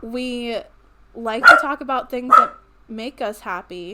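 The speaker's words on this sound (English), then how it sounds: "that's my dog in the background" A dog barks and whines in the background of an indoor recording, with a few short yelping calls mixed in beneath a person talking close to the microphone.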